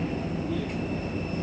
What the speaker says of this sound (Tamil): flight aeroplane